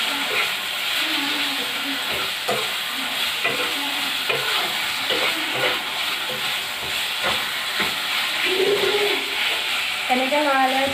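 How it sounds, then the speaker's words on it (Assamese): Meat fries with ginger and garlic in a pan, giving a continuous loud sizzle and hiss while it is stirred, with repeated scraping and clinks. A voice speaks faintly in places under the frying. "এনেকৈ লৰাই লৰাই এতিয়া 15 মিনিটমান সময় ভাজি ল'ম।"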